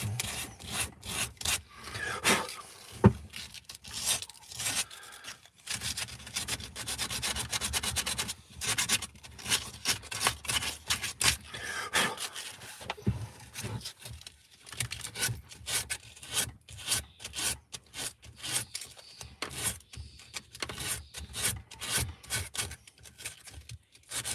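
Emery cloth rubs back and forth over a wood carving in quick, irregular close scratchy strokes, continuing throughout with short pauses between runs of sanding.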